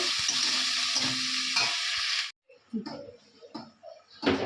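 Spices tossed into vegetables frying in a pan give a loud, dense sizzle that cuts off abruptly midway, followed by quieter stirring scrapes and clinks and a brief return of sizzling at the end.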